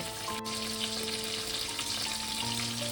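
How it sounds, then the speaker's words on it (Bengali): Prawns sizzle gently in hot oil in a pan, a steady soft crackle and hiss that runs on without pause at low level, with no one talking. "চিংড়ি বেশি ভাজা ভাজবো না হালকা করেই ভাজবো"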